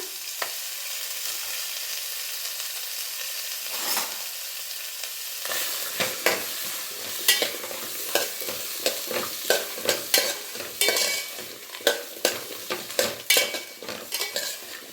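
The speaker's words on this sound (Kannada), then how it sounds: "ಒಂದು ಅರ್ಧ ಸ್ಪೂನ್ ಆಗೋಷ್ಟು ಎಣ್ಣೆ ಹಾಕಿ ಫ್ರೈ ಮಾಡ್ಕೊಂಬಿಡೋಣ" Onion and garlic frying in half a spoon of oil for a village-style chutney, a hiss that swells as the food hits the pan, then repeated rhythmic scraping and stirring strokes, close and without speech.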